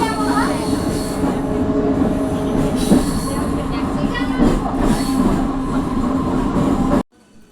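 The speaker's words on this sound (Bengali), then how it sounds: "দীঘা থেকে পাঁশকুড়ায় ফিরছি আর এই ট্রেন একদম খালি" A Digha to Panskura local train runs steadily in continuous, loud, close-up rumble and rattle, with wheel squeal and clatter from inside the carriage, before the sound cuts off abruptly near the end.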